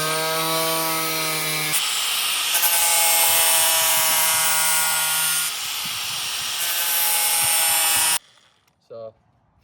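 A power tool trims a plastic car bumper with a steady high-pitched whine and a harsh cutting rasp that runs for several seconds, shifts pitch midway, then stops abruptly, followed by a brief short burst.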